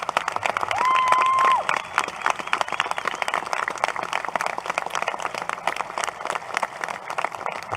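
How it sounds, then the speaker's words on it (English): A high school graduation crowd applauds veterans with sustained, dense clapping and some cheering, fairly distant and even, while a brief whistle-like tone rises early on. "Can I get a round of applause for my fellow veterans?"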